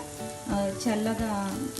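Spices frying in a pan for vaangi bhaat (spiced aubergine rice) give a continuous close sizzle, partly covered by a voice speaking over it.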